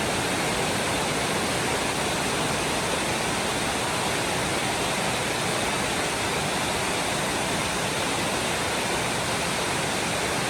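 Floodwater pours and splashes into a house during a sudden flood, a dense, steady rushing roar that holds unbroken and loud throughout.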